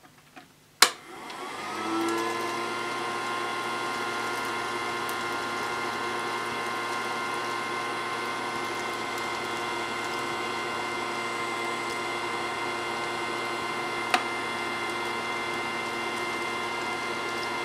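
A Casdon toy Dyson DC22 cylinder vacuum cleaner, used through the tube without its nozzle, sucks up polystyrene balls: a click, then a whirring motor that spins up and holds a steady, loud tonal whine, with one brief tap partway through.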